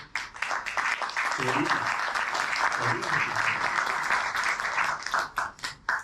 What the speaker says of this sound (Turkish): Burada tabii jüri üyelerini alkışlatacağım.